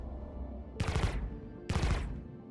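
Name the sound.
Omni Sky 9 laser cannons firing in the video game Star Citizen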